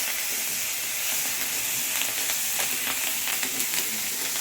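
Curry leaves sauté in a pan with tamarind, giving a steady close sizzle with faint crackles and a few light stirring ticks, no voices.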